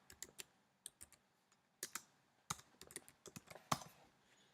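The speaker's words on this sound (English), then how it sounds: "you can just type in text help." Computer keyboard keys are tapped in short irregular bursts, close and quiet, with crisp individual clicks and brief pauses between them and no talk.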